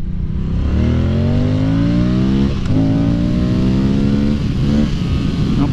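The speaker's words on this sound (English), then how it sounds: "Yeah, this is a fast motorcycle, man. This is a properly quick bike." A 2023 Moto Guzzi V100 Mandello S motorcycle pulls hard from about 20 mph, its engine note climbing loud and close with a brief shift break midway before rising again; no one talks.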